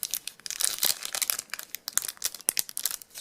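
Foil packs of 2012 football trading cards being torn open, a busy run of crisp crinkling and tearing bursts in quick irregular succession, close and fairly quiet.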